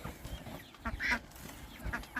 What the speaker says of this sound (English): Now the ducks want to come up here.